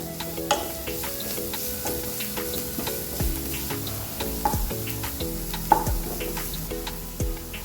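Curry leaves crackle and fry in hot oil in a pan, with steady sizzling broken by sharp pops and stirring clicks throughout, close and fairly loud with no voices.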